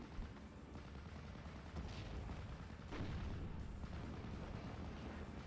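Artillery fire in a World War II strategy game, a 105 gun shelling a mortar half-track: dense, continuous rumbling booms and gunfire, with heavier blasts near two and three seconds, no voices.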